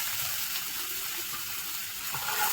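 Chopped onion frying in hot oil for a tadka in a soybean masala dish, a steady hissing sizzle with soft crackles that holds evenly throughout.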